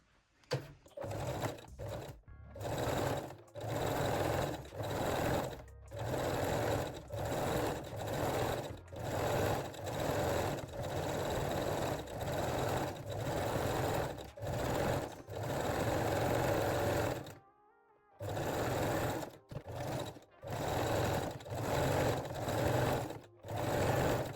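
A sewing machine stitches fold-over elastic around the armholes of a sporty bra, running in steady bursts with brief pauses between them and a longer stop partway through.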